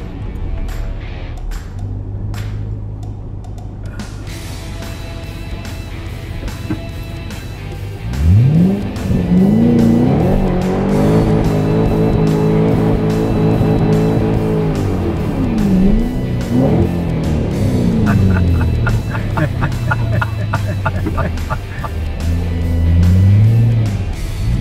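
A Ford Mustang GT500 does a burnout in front of a house, its engine revving hard and rising through sustained loud roars while tires squeal and spin for most of the run, close and dominant with no talk.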